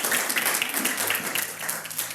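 A church congregation clapping during a sermon, dense steady applause holding at a fairly loud level from start to finish.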